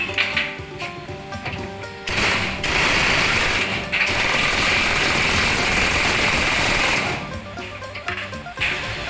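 A wrench tightens bolts on the leaf spring bushings of a Tata Giant truck: a loud, rapid mechanical whirring and clicking that starts, stops and restarts in bursts, close by with no voices.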